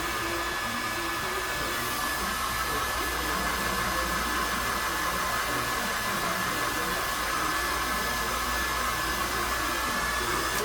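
A hair dryer blows steadily on hair during a state board procedure, giving a loud, constant whir with a high whine that runs unbroken the whole time, with no talking.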